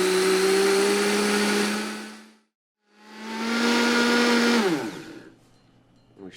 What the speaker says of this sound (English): At 3, it's beginning to mix the sugar and the flaxseed around.